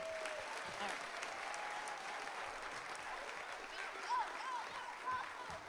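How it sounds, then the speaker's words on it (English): An audience at a children's Christmas production gives a round of applause, with steady, moderately faint clapping throughout and a few brief vocal whoops and cheers rising over it. "Let's give one more round of applause."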